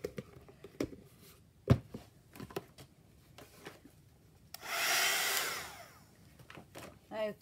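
A hair dryer blows over wet wallpaper craft tags for about a second and a half midway, a steady close whoosh, with scattered light handling taps and rustles before and after.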